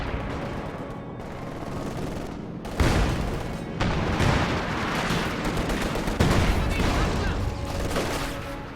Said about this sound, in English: Su-76 bombardment coming in.